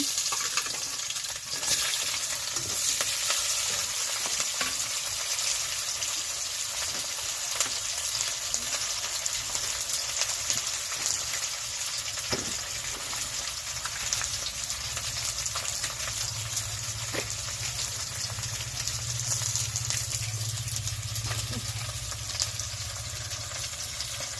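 Whole cumin, onion and tomato fry in a pan, giving a steady, fairly loud sizzle that runs the whole time with faint scrapes of stirring.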